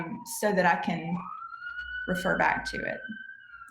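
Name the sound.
sirens outside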